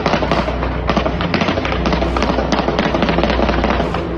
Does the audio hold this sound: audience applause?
no